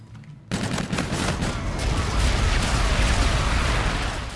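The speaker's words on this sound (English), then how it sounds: "Friendly bombardment incoming." Friendly bombardment in Call of Duty: Infinite Warfare, Sabotage DLC multiplayer: after a brief quiet start, a sudden loud barrage of dense explosions and gunfire erupts and rumbles on continuously, heavy and close.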